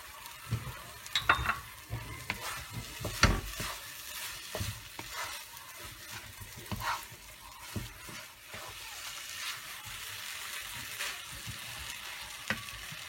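Raisins sizzling in hot oil or ghee in a pan while a spoon stirs them steadily, giving a continuous soft crackle with scraping strokes throughout, close and fairly quiet.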